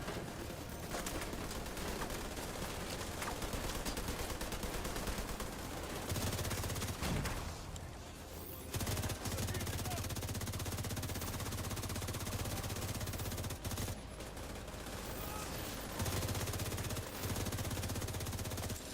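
Gunfire in the shooter The Division 2, rapid volleys of shots crackling steadily through a loud, busy firefight, with brief pauses between bursts and no clear talk.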